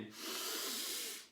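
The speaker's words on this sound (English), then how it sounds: "Breathe out and in." A slow breath out and then in during a breathing exercise, one soft airy hiss that swells and fades over about a second, close and quiet.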